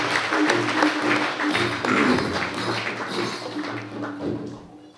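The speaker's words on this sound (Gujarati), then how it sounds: "એ બધાનો અભિવાદન કરતા તાળીઓથી વધાવી લઈએ" Audience applause honouring a Father and his religious community at the inauguration of a Lourdes Mother Mary shrine, sustained clapping with a steady rumble of low hum and scattered thuds throughout.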